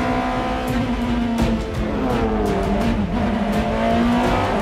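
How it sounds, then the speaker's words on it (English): A 2002 BMW M3 E46 race car, stripped of interior, roars loudly with a steady engine drone and shifting revs, with possible tire squeal mixed in across the whole stretch. "Mario races a 2002 BMW M3 E46."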